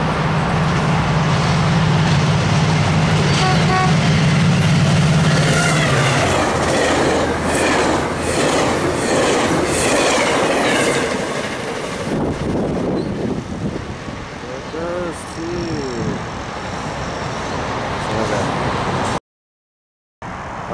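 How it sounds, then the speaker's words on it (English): A southbound Caltrain express passenger train passes close and loud, with a heavy rumble and rhythmic wheel clatter. It fades somewhat toward the end before a brief dropout. "here's Caltrain 212. Southbound Caltrain Express."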